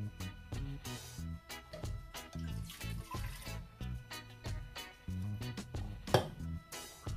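Two cups of water poured into a cooking pot for Jamaican steamed fish, a steady splashing stream with irregular louder gurgles and bursts, close and alone without talk.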